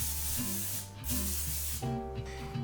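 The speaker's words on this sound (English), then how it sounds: "to prevent sticking, I'm going to use this spray-on olive oil." Two bursts of olive oil cooking spray hiss close by, each lasting about a second, separated by a short pause, with a low hum underneath.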